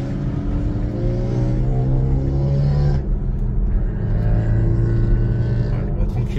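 Race cars pass on the Clastres circuit, heard from inside a Tesla Model 3 pulled off the racing line, their engines rising and fading over a loud, continuous rumbling road and cabin noise.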